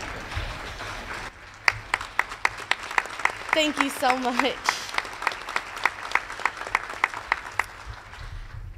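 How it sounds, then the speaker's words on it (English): An audience at an awards ceremony gives sponsors a round of clapping, a loose rhythmic patter of hands that runs through the clip while a voice speaks briefly over it. "We gotta give them a clap."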